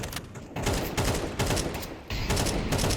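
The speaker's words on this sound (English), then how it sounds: "It's smokes, mollies, gunfire everywhere." Gunfire from a Counter-Strike match on the Mirage map comes as dense, loud bursts of rapid shots that stop and restart several times across the whole stretch.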